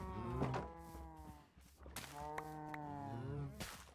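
Blocky cows in Minecraft moo in a close, loud cluster, several overlapping drawn-out lowing calls filling the whole stretch with a brief dip midway, no talk over them.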